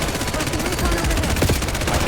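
Rapid machine gun fire using a 60-round magazine in a video game multiplayer match, a dense, continuous burst of loud shots with no pause, close and harsh.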